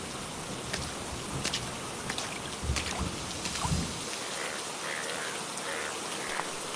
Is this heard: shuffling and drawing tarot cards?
no